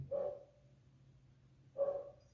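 A dog gives two separate barks, the second louder, with quiet background between them.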